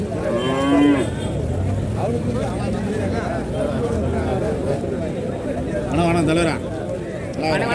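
Cattle low loudly at a busy livestock market in Karimangalam, with several long moos rising over constant crowd chatter and background bustle.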